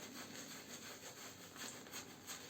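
A shaving brush scrubs lather into a beard in steady, close rubbing strokes, a soft continuous bristly scratching with gentle rhythmic surges and no voices.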